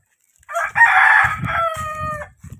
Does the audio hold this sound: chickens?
yes